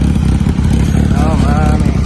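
A Kawasaki Ninja 400 fitted with an SC Project exhaust runs close by with a loud, continuous engine rumble, and a voice talks over it throughout.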